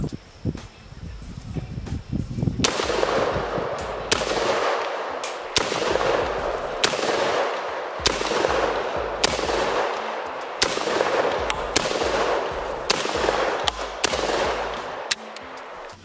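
An SDS Imports Lynx 12 AK-style shotgun fires in a rapid string of about ten loud, sharp blasts, spaced roughly a second apart, each followed by a short outdoor echo and no talking.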